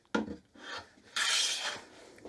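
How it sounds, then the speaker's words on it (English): A hand plane shaving a piece of pine, giving two rasping strokes: a short scrape, then a longer, louder sweep of blade across wood, close by with no talk. "Like if I was to put a piece of pine in here, you'd see a nice shaving."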